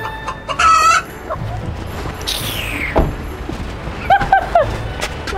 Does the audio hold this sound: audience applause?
no